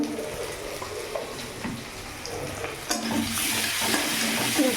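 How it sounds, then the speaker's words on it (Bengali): Onion and whole cumin seeds frying in oil in a pan for a Bengali fish curry, a steady soft sizzle with faint crackles and stirring bumps that grows brighter and louder in the last seconds. "এখানে একটু পেঁয়াজ ফোড়ন দিলাম একটু গোটা জিরে ফোড়ন দিলাম"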